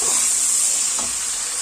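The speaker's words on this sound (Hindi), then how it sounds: "इसको 1 मिनट ऐसे करके भूनेंगे" Ginger garlic paste fries in a pan with a soft, steady sizzle and hiss, close and brief, and a faint touch of stirring partway through.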